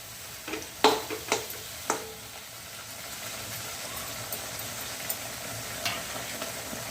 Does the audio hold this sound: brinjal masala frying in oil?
yes